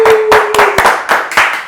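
A small film crew gives a few seconds of scattered hand clapping, about six distinct claps in a loose, uneven rhythm, close and fairly loud.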